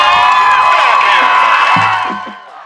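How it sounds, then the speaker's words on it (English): A crowd cheering and whooping at a Friday night high school football game at Staley High School, loud and sustained, fading out at the end. "Friday night lights at Staley High School mean football, cheering, music, the crowd"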